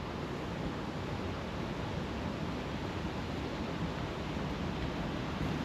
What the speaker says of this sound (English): it's a lot of them man-made waterfalls